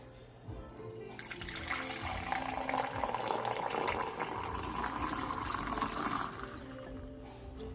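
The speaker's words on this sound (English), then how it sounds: "I'm going to go ahead and transfer it into another carafe" Freshly brewed V60 pour-over coffee streams from one carafe into another in a steady, continuous liquid pour lasting several seconds, close and moderately quiet, tapering off at the end.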